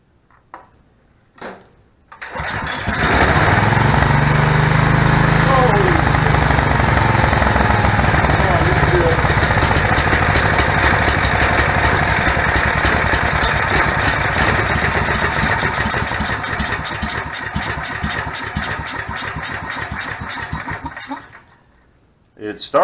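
A Generac EXL 8000 portable generator's engine catches and runs loud and steady at close range after its carburetor replacement, a continuous rough drone with rapid mechanical ticking, until it cuts off near the end.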